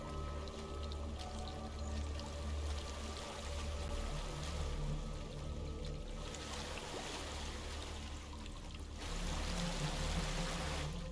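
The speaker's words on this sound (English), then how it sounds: "There's a waterfall." Waterfall in the video game Hellblade: Senua's Sacrifice, a steady broadband rush of falling water that holds evenly throughout, with a slight swell near the end and no speech.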